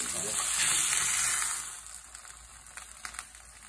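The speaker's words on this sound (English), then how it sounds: "sear up a good burger and give it a crust" A burger sears in a hot cast iron pan, a loud bright sizzle that swells for the first second and a half, then thins into softer crackles and pops.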